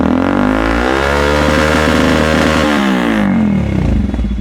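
A customised Hero XPulse 200 4V motorcycle fitted with an R1M exhaust revs hard and close, a loud, sustained engine roar with rising and falling pitch that eases off near the end.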